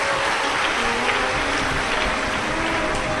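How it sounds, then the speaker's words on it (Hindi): A crowd at a Shiv Mahapuran katha claps loudly and steadily, a dense wash of applause sustained throughout without talk. "एक बार जोरदार ताली बजाकर आप सभी के लिए साधु का"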